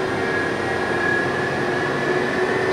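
The spindle of a Millport Rhino III CNC bed mill whines steadily as it runs up toward 3000 RPM, a loud, close, continuous hum with a sustained high tone that rises slightly in pitch.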